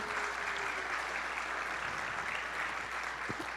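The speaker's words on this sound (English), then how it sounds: "another round of applause?" A crowd claps steadily in dense, sustained applause, loud and even throughout with no pauses.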